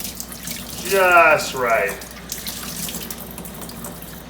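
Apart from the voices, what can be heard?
warm water running from a tap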